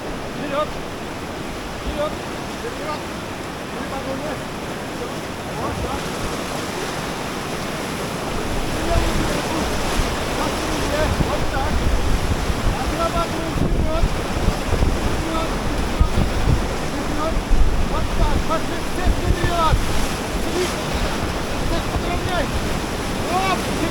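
Whitewater roars continuously through the last difficult rapid of the Upper Canyon on the Uda River in the Eastern Sayan mountains, a broad, dense rush that swells louder midway, with wind buffeting the microphone.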